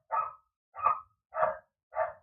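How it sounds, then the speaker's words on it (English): A dog barks four times at an even, unhurried pace, with the barks sharp and fairly close against a silent background and no voices heard. "The dog is barking."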